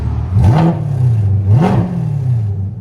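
A 2021 Chevy Corvette C8 with a 6.2L V8 and aftermarket exhaust, valves open, revved twice in quick succession; each blip climbs sharply and falls back to a loud, burbling idle, close by.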